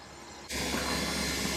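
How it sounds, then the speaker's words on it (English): A turbocharged Fiat Spider's fuel pump suddenly starts up with a steady, hissing whir that continues evenly without pause. "Oh, that is the fuel pump. It's down here."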